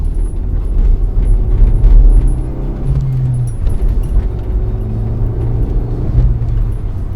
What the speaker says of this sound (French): Accélération, c'est parti.